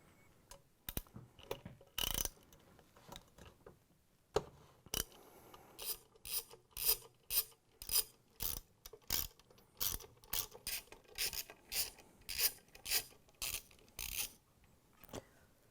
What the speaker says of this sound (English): we can use the same number 3 Phillips bit with the ratchet to take out the big screws